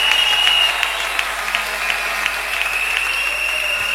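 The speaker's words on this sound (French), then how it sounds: "On peut acclamer très fort." A congregation at an evangelistic church service applauds loudly, a dense, steady wash of clapping that runs the full length with a faint sustained tone over it and no talk.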